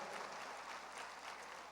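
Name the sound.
church congregation applauding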